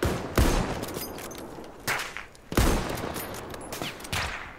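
Sniper rifle fire in the first-person shooter Battlefield 1: three or four sharp, loud cracks spaced irregularly over a few seconds, each one trailing into a short echoing tail.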